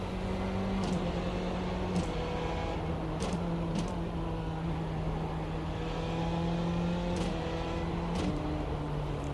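Formula Renault 3.5 open-wheel race car engine in iRacing, a steady droning note that climbs and drops through gear changes with brief shift cuts, continuous and close throughout.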